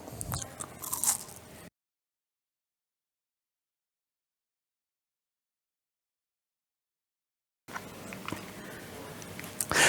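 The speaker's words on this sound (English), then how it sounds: "The crackers add a soft crunch that pairs really nicely with the stronger crunch of the peanuts" Bites of Ritz cracker peanut butter bark crunch loudly and close, in two short bursts separated by a long stretch of silence.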